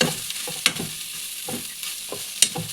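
Cabbage thoran being stirred in a pan, with soft scraping strokes and light sizzling and a few sharper clinks of the spoon against the pan, fairly close and quiet, with no talking.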